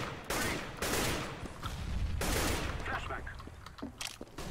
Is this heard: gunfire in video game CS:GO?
yes